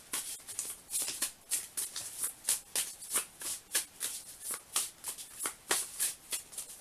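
Tarot cards are shuffled and handled in quick, rhythmic bursts of crisp riffling, close and clear, repeating at a steady pace with no talking.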